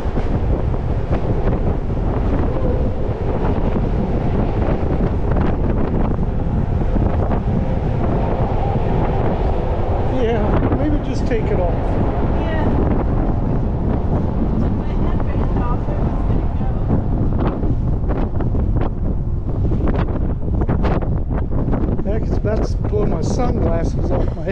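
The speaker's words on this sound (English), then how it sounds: "Pretty windy up here." Strong wind buffets the microphone nonstop on the open deck of the cruise ship Adventure of the Seas, a loud roaring rush with occasional faint voices in the gusts.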